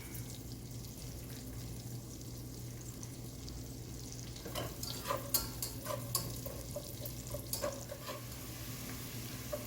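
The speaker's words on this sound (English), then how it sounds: "we just want the onions to soften up here a little bit" Onions softening over low heat with a little salt in a pan for a keto chicken and broccoli cheese soup, a quiet steady sizzle with soft stirring scrapes growing busier toward the end, no talk.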